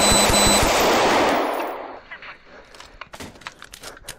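Gunshots fired during a police encounter, a rapid loud burst of several shots at close range that cuts off, followed by scattered fainter knocks and movement.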